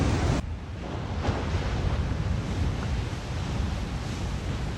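Big ocean waves and heavy swell near Nazaré, heard as a steady broadband roar of surf mixed with wind buffeting the microphone, continuous and fairly loud throughout with no talking.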